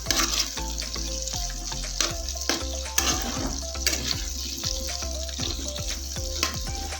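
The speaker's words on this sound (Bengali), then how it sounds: "আর এবারে আলু আর ক্যাপসিকামের মধ্যে পেঁয়াজগুলো দিয়ে দেবো" Chopped onions fry in a pan with potatoes and capsicum for egg chowmein, giving a steady sizzle broken by repeated sharp clinks and scrapes of stirring, with no talking.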